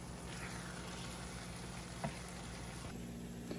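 Red wine risotto simmering gently in a pan on low heat, a steady faint bubbling and low hiss with one soft clunk partway through, no voices.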